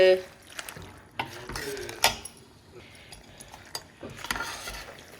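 A spoon stirring pasta through tomato sauce in a pan, with scraping and clinking against the metal and a faint sizzle underneath, close by and irregular, while a voice talks over it.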